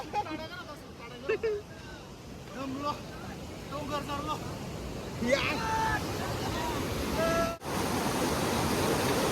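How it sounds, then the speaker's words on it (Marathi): Heavy rain pours at a monsoon waterfall, a loud steady rushing wash of water that fills the whole scene, with people talking and shouting over it throughout. "फुल पावसाची मजा घेणार जरा धबधब्याची फुल पाऊस पडतोय."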